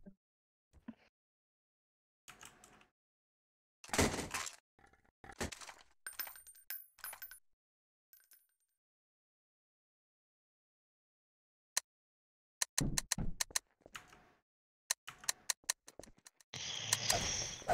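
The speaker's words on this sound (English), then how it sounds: "I'm hearing clicking. That's scaring me." Sharp clicking and clinking sounds from a Garry's Mod Trouble in Terrorist Town game come in scattered bursts separated by silences, some quick and metallic, others rapid and rattling, close and fairly faint.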